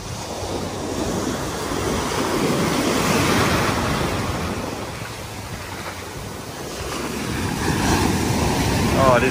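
Rough Atlantic surf pounds the beach at an Ocracoke Island campground in North Carolina, a loud, continuous roar of breaking waves that swells and recedes, with wind buffeting the microphone throughout.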